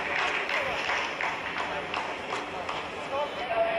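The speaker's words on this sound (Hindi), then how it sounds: "आप इस तालियों के गड़गड़ाहट को सुन सकते हैं" ISRO scientists applaud during the Chandrayaan 3 lunar landing, with dense, continuous clapping from a crowded control room that holds steady throughout.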